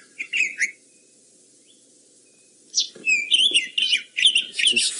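A robin sings from nearby bushes: a short burst of high, thin warbling notes, a pause, then a longer run of sweet trills and chirps, clear against quiet background.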